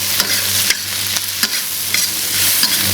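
Cured pork stir-fried with chili peppers in a wok, a constant sizzle broken by regular scraping strokes of the spatula about twice a second, close and loud with no talking.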